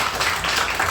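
A church congregation claps during a Sunday worship service, a short dense burst of applause from many hands filling the room.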